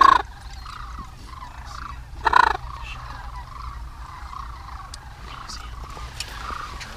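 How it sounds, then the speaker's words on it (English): Sandhill cranes call near decoys during a West Texas hunt, giving a couple of rolling, rattling bugles over a steady low background rumble, with faint distant calls in between. "There's a whole bunch of birds coming."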